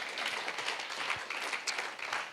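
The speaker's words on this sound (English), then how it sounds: "Please clap for him." Audience applause at a talk with a tech company CEO, a dense patter of many hands clapping steadily at moderate, slightly distant volume, without speech.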